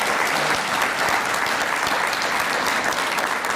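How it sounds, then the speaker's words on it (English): A meeting audience gives sustained, dense applause to event coordinators at an annual gathering, an even wash of many hands clapping at full strength from start to finish with no voices on top. "Another round of applause for these fabulous,"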